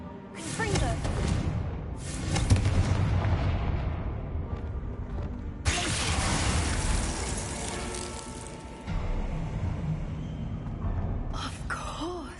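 Confringo fire spell from the Hogwarts Legacy video game, bursting in loud, broad blasts with a roaring crackle, several eruptions across the stretch and a fresh burst near the end, a voice speaking over it.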